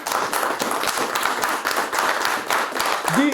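Applause in a Masonic lodge: a roomful of people clapping steadily and fairly loudly for several seconds, close and sustained, with a voice starting to speak right at the end.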